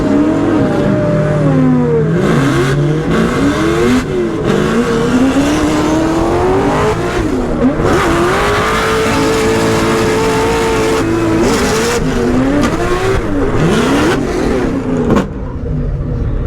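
A 2JZ-swapped BMW E36 race car launches hard off the line, its engine screaming up through the revs with sharp gear changes and repeated rising pitch sweeps, loud and close, continuing at full throttle.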